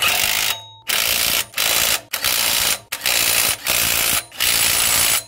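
A hand ratchet tightens manual flywheel bolts on an R31 Skyline, giving loud, close, continuous clicking in six or seven bursts broken by short pauses as the handle is reset.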